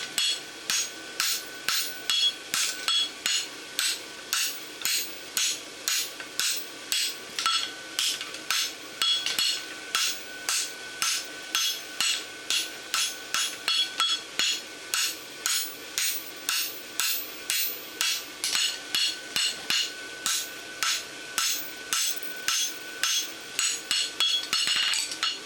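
Hammer forging a steel bar horseshoe for a lateral extension barshoe, a long run of evenly spaced, bright ringing strikes on an anvil, close and loud with no pause.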